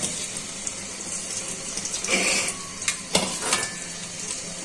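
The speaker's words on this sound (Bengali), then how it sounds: "এখন তেলটা গরম হয়ে গেছে, পেঁয়াজ কুচিগুলো আর রসুন কুচিগুলো দিয়ে দিচ্ছি।" Chopped onion and garlic sizzle in hot oil while cooking helencha greens, a steady close frying hiss with a few sharper crackles and stirring scrapes, and no talk.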